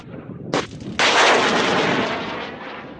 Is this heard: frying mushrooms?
no